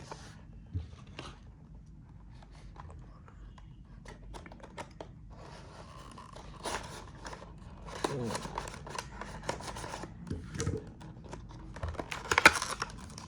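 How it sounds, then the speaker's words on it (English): A cardboard box holding a BWOO BO-CC96 three-port car charger is unboxed close up: faint crinkles, taps and scraping handling noises come in irregular bursts against a quiet background, getting busier toward the end. "So let's just quickly unbox this box and see what is really inside."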